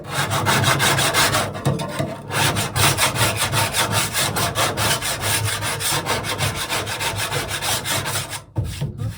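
Continuous hand-sawing through plywood during interior work on a 1983 VW T3 Vanagon, a steady rhythmic rasp of back-and-forth strokes, loud and close, with brief pauses around two seconds and near the end.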